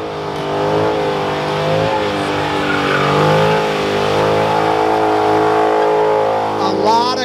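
A 2019 Dodge Challenger Scat Pack roars loudly and steadily through a tire burnout at a Holley Moparty 2021 burnout contest, its engine note rising and falling while an announcer talks over it.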